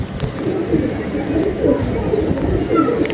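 Several pigeons coo nearby in low, bubbling, overlapping calls that roll on continuously, with faint background murmur beneath them.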